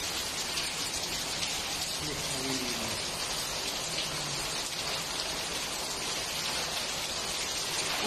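Heavy rain in Oman pours steadily with a dense, constant hiss of drops hitting surfaces, loud and unbroken throughout.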